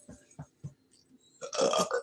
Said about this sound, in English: I can just make myself burp.